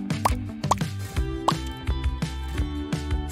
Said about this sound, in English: Then add some drops of food coloring.